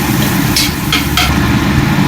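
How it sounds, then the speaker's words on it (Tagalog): Ginger sautéing in a pan for a milkfish dish, giving a loud, steady sizzle close up with a few brief bursts of stirring, and no voices. "Igigisa na natin yung luya."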